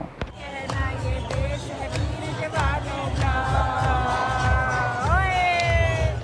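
Packed crowd at a dolphin show at Safari World in Bangkok, cheering and whooping amid steady babble, with sharp claps and shouts rising over the noise.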